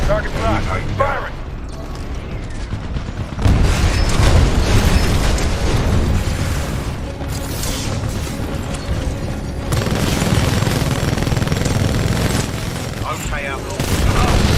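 Missiles launching and detonating in Titanfall 2, a dense, continuous wall of booms, blasts and mechanical roar, loud and unbroken throughout, with voices talking over the barrage.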